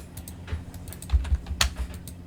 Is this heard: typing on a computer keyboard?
yes